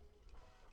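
A 3D printer runs in a workshop, giving a faint, steady mechanical hum and whir with slight ticking, low in the background and without speech.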